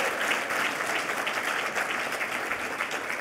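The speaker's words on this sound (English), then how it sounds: "So one more round of applause, please" Sustained applause from an audience at an alumni award ceremony, a dense even clatter of many hands clapping throughout, fairly loud and steady with no talk over it.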